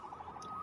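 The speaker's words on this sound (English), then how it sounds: "Saved by the siren." A siren wails in a city street, faint and distant, a brief wavering tone heard alone.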